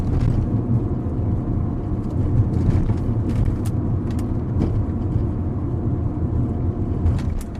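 A Mini Cooper S R56 on lowering springs and adjustable camber plates drives over a semi-smooth road, with constant cabin road noise and engine hum broken by scattered light knocks from small bumps.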